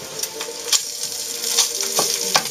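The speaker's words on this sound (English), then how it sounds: "while the sausage is cooking, we want to kind of cut it up." Italian sausage sizzles and crackles in a hot pan, with steady high frying hiss and a few sharper pops and stirring scrapes scattered through, close and moderately loud.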